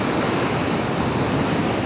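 Sea waves and strong wind on the Alexandria coast in winter during a storm, a steady, dense roar of surf and gusting air that fills the whole clip with no voices.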